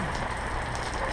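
Monsoon rain pours steadily in Arizona, a dense, loud, close wash of drops hitting surfaces with no voices over it.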